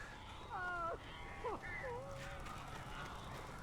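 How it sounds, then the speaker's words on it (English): Crows cawing in the Alan Wake video game, a few harsh calls close together in a brief burst, heard over a low ambient background. "That's a lot of birds."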